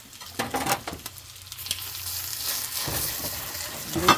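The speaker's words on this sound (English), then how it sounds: "I'm starting to cook my hash browns a little bit more than I want." Steady sizzling of hash browns frying in a pan, with a few scrapes and clinks of stirring near the start, continuous and moderately loud.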